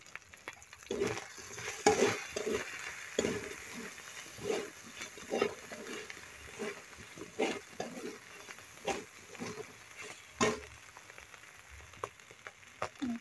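Monitor lizard meat is stirred and sautéed in a pan with chili powder, turmeric and spices, giving a soft, steady sizzle broken by repeated scraping stirs, moderately close and without talk.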